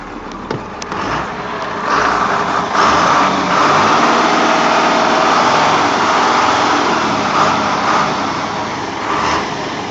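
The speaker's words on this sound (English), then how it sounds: "I'll go out here, rev it up a little" Engine of a 1996 Ford Blue Bird school bus revving up, a steady loud mechanical roar that swells and holds for several seconds before easing slightly.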